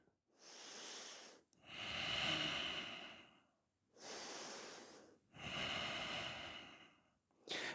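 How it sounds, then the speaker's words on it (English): Slow, deep breaths during a hot yoga practice, each long inhale and exhale drawn audibly and close, repeating in a steady rhythm of about four breaths with short pauses between. "And wherever you are, go back to your breathing."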